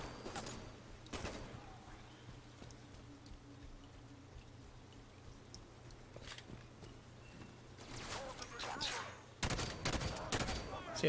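Gunfire in the video game Halo 5: Guardians, scattered shots early on building to dense, loud bursts of rapid fire near the end over a low hum and ambient battle noise.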